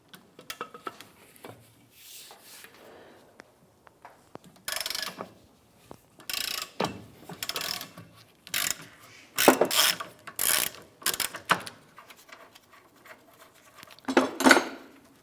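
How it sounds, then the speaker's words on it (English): An 18mm socket on a ratchet works loose the shock nut on a 2008-2013 Nissan Rogue rear suspension, giving bursts of sharp metallic clicking close by, separated by short quiet pauses. "Using an 18mm socket, go ahead and loosen the nut on the shock."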